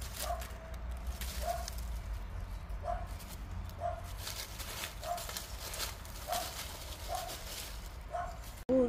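A puppy gives a steady series of short, fairly faint barks and yips, about one every second, with soft whimpering mixed in over quiet background noise.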